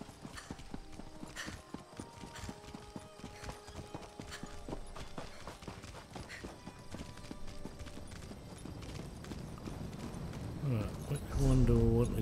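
Horse hooves clip-clop at a steady walking rhythm while riding in The Elder Scrolls Online, with game music and someone talking over them, ending in a brief louder whinny-like burst.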